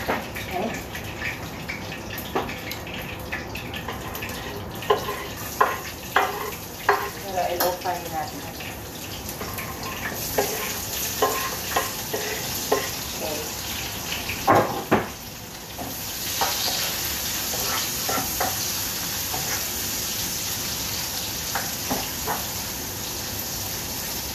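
Garlic and onion frying in a pan for caldereta, a steady sizzle with intermittent stirring clicks and scrapes, close and moderately loud, growing brighter and busier in the second half.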